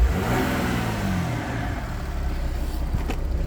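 A 2009 Audi A4 B8 allroad with a 3.0 TDI diesel engine revs up to its 2500 rpm limiter, the engine note rising and holding loud and close, then easing off into a rougher idle.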